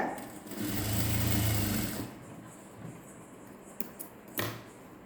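A sewing machine whirs in one fast burst for about two seconds, double-stitching a cup dart on a blouse, then stops, followed by a few faint clicks and handling taps.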